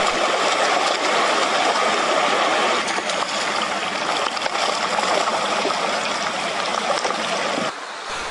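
Water streaming over a flooded road beside the Yangtze River in Yueyang, Hunan, a steady broadband rushing and trickling that fills the clip at moderate level, easing slightly near the end.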